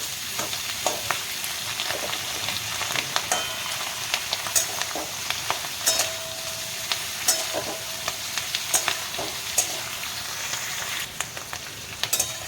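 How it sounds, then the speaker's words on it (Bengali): Onion stalks sizzle steadily in hot oil, with sharp scraping clicks of a spoon stirring the pan at irregular intervals. "পেঁয়াজ কলিগুলো তেলের মধ্যে দিয়ে একটু ভালোভাবে নেড়ে নেবে"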